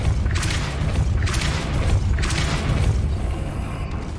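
Three thudding Depulso spell impacts in Hogwarts Legacy, spaced roughly a second apart, each a muffled boom with a bright crackling burst over a steady low rumble.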